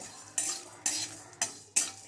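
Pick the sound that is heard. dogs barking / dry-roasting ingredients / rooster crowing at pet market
dry-roasting ingredients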